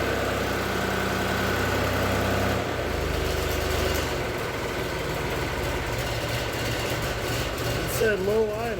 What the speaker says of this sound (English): You have the tractor at a low idle to check that.